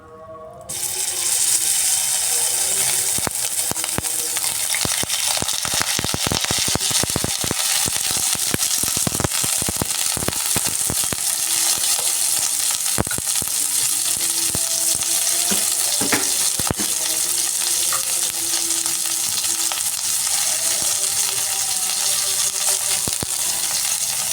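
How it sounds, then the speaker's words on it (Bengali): Large pieces of cauliflower fry in refined oil with salt and turmeric, giving a loud, continuous crackling sizzle that runs unbroken for over twenty seconds, with scattered pops and spatula clicks and no talking. "রিফাইন্ড অয়েলের মধ্যে আমি ফুলকপিগুলো একটু হালকা ভেজে নিচ্ছি"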